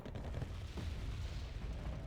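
Artillery fire in the Wargame: Red Dragon video game, a quiet, dense low rumble of distant shelling with muffled booms packed together across the short stretch, no speech.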